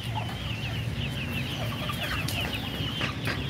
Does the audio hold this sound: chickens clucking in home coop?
yes